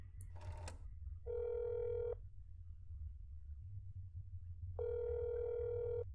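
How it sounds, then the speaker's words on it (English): A rotary telephone in the video game That's Not My Neighbor rings twice, each a steady electronic tone lasting about a second, separated by a long quiet gap and preceded by a brief noisy click. "Have you guys ever used a rotary phone before?"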